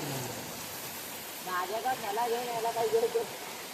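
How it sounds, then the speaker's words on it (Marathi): Steady broad hiss of falling water beside a waterfall as rain begins, moderately loud and continuous, with a faint tonal murmur rising over it in the second half. "पावसाची सुरुवात झालेली आहे"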